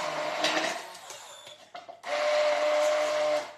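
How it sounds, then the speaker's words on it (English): An electric immersion blender whirs in two steady, loud bursts, with a brief sputtering pause and clatter between them, close by and without speech. "Y'all know this is my immersion blender I got."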